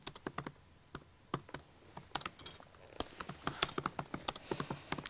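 Quick, irregular keystrokes clatter on a computer keyboard, with bursts of taps and brief pauses. The typing is close and fairly quiet in a still room.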